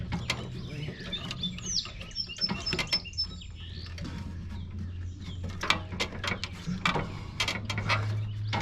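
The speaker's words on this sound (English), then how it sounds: "Then you rotate that pulley clockwise to help seat the rest of the belt." Rotating a pulley by hand to seat the mower deck belt on a Simplicity Courier zero turn produces close, irregular ratcheting clicks and metallic taps over a low hum, fairly faint.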